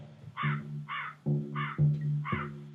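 A crow caws repeatedly near a fall fish camp, several loud, harsh calls in an uneven rhythm over a low droning tone.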